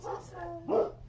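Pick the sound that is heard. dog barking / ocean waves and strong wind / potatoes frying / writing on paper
dog barking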